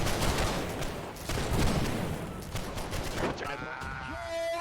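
Rifle volley fired at point blank range in a musket-era line-infantry video game, a dense crackle of massed shots with battle noise, and voices shouting near the end.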